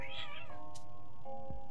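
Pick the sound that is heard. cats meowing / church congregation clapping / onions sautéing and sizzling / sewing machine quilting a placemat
cats meowing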